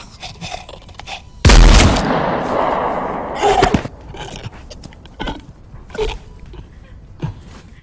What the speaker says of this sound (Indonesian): Lalu saat alien itu mendekat ke arah Ocha, ia berhasil menembak alien itu